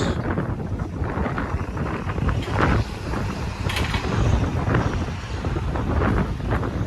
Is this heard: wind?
yes